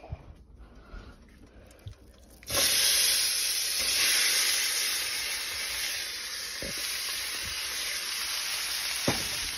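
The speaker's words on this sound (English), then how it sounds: "So we're gonna add this into my buttered and sprayed pan" Meat frying in a buttered, sprayed pan gives a sudden loud sizzle that starts partway in and holds as a steady hiss, with a few faint clicks and clatters.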